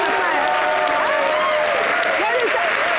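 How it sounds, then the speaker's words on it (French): Audience applause at a French-language evening variety talk show, a steady broadband clapping wash with some voices and whistle-like tones over it throughout. "Aïe, vous n'applaudissez pas pour eux."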